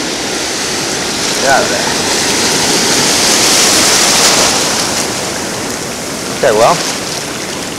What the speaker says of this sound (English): Because it's going to be some big waves.